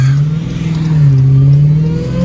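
A 2023 Dodge Hellcat Redeye Challenger Widebody accelerating hard through a turn, its engine loud and close with a rising, steady growl that climbs in pitch, heard alone without talk.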